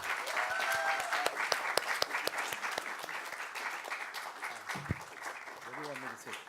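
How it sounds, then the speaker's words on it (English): An audience at a book launch in a small theatre applauds for a guest, a sustained wash of clapping with a few sharper nearby claps and brief voices and cheers rising toward the end. "Please put your hands together for Mr. R. Gopalakrishnan."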